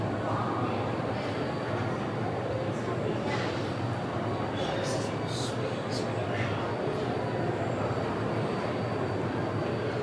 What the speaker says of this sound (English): There's a little steam train hauling huge logs.